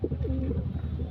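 A pet pigeon coos in a soft, brief warble, close and fairly loud, over a low steady background hum.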